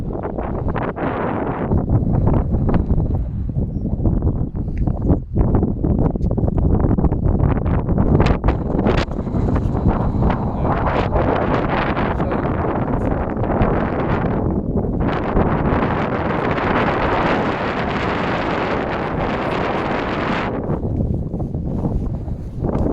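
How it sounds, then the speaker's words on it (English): Easterly wind blowing hard at Devil's Point on the Plymouth coast, a loud continuous roar buffeting the microphone with gusty surges throughout, no voices. "Got an easterly wind, so it's a bit cool, but still gorgeous."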